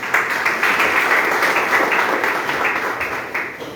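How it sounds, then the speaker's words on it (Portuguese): Church congregation applauding during an evening service, a steady wash of many hands clapping at moderate loudness, sustained without pause and with no voices over it. "A igreja aplauda ao Senhor."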